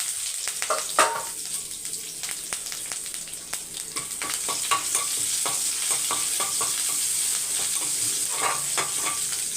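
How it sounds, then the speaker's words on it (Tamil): Crushed garlic, curry leaves, cumin and chana dal sautéing in hot oil, a dense close sizzle that swells and holds steady, with spatula strokes clicking and scraping throughout, no one speaking. "பூண்டு நல்லா வதங்கட்டும்"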